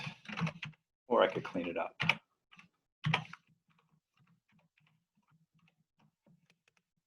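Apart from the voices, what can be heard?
typing an equation on a computer keyboard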